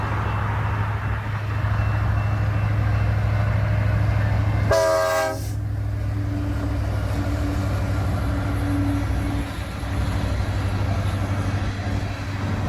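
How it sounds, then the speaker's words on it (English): An empty BNSF coal train rumbles steadily past nearby in Lincoln, Nebraska, with a short blast of the horn partway through over the continuous rolling of empty cars. "Empty coal train, obviously."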